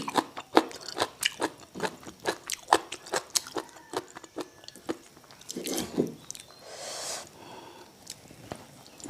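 Crunchy food is chewed up close, a steady series of crisp bites and crunches with softer wet squishes between, fading to a few moist mouth sounds near the end.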